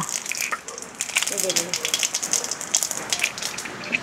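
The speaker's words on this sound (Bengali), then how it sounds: "দিলাম তেল, সরিষার তেল, দিয়ে দিলাম জিরা" Cumin seeds sizzling in hot mustard oil in a pan, a steady crackling hiss with sharp spitting pops, close and fairly loud throughout.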